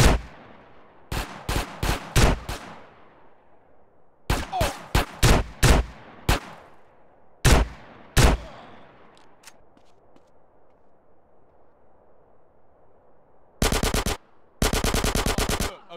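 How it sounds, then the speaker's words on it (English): Bursts of gunfire in GTA San Andreas: rapid loud shots in quick clusters, separated by pauses, ending with two sustained automatic rattles. "Yes, a gun."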